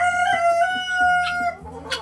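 Chickens in a coop, Wyandottes and barred rocks, with a rooster crowing in a drawn-out call over softer, rhythmic clucking nearby, close and fairly loud.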